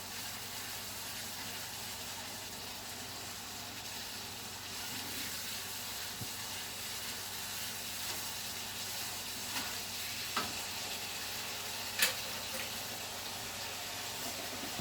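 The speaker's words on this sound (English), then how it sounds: "Now all of this is just going to start cooking and cooking down and getting nice and soft." A pot of Texas chili simmering and cooking down, giving a soft, steady sizzle and bubbling that holds close and even throughout. A few faint clicks and a brief metallic tick break through near the end.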